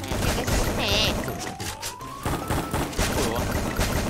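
Rapid bursts of gunfire from the Free Fire mobile battle game crackle in quick succession, loud and dense, mixed with other game effects.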